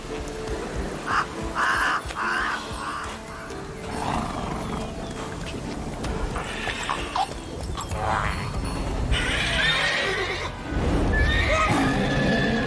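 Geralt's horse Roach in The Witcher 3 whinnies and neighs several times across the stretch, loud and close, over an ambient game backdrop with shuffling hooves.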